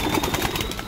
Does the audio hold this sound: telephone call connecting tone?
no